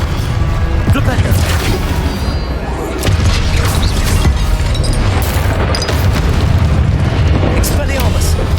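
Flipendo spell cast in a Harry Potter video game, a loud booming blast with crashing, bursting texture that fills the whole stretch, dense and continuous with a brief dip midway.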